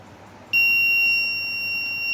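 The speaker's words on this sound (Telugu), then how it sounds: "సో ఇక్కడ బజర్ ఆన్ అయింది" The buzzer of a hobby rain-sensor project in a smart greenhouse model switches on abruptly and holds a loud, steady, high electronic tone with no one speaking.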